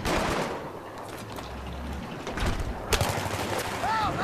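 Battlefield 3 gunfire crackles in short bursts over game ambience, with sharper nearby shots toward the end amid other in-game sounds.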